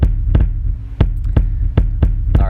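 Menacing music generated from feed bacteria microbial data: a low, humming drone struck by about six heavy, evenly spaced throbbing thumps, like a slow heartbeat, loud and close.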